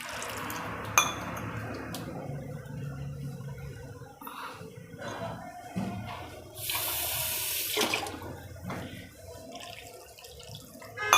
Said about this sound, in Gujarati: પાણી નાખી અને આપણે ખીરા જેવું બનાવી લેવાનું